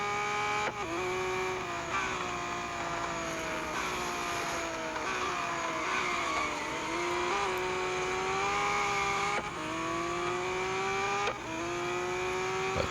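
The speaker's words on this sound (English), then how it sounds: "instead of skidding all over the track here, as I'm still skidding" Engine drone and sliding, whining tire squeal from a car skidding around the track in the racing game Hybrid Highway, continuous and fairly loud with pitch rising and falling as it slides.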